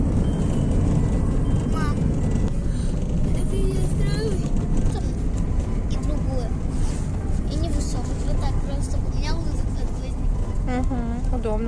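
A car drives to the vet, its steady road rumble continuous throughout while children and adults chat and sing over it.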